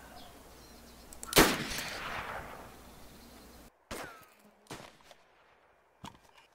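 Gunfire in the video game DayZ: one loud, sharp rifle shot with a long ringing tail, followed by three fainter, more distant cracks spaced a second or so apart.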